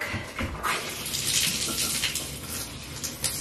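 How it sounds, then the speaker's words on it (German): Water gushes from a tap into a bathtub with low water pressure, a steady close hiss and splash that holds throughout with slight surges and no voices. "unser Wasserdruck ist ja hier so niedrig, das dauert Ewigkeiten, bis die Badewanne voll ist."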